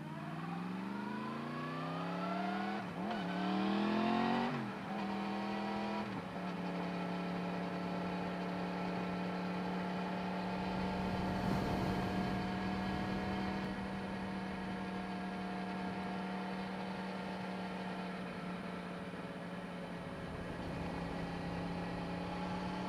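A Yamaha MT-10 SP motorcycle ridden on a road in hot weather: engine revs rise and fall through a few gear changes, then settles into a steady loud cruising drone with wind rumble, no talking.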